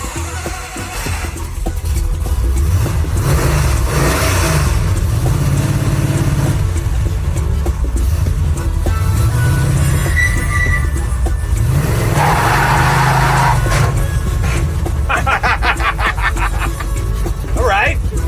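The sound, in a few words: burnout in 455 Oldsmobile-powered Mazda mini-truck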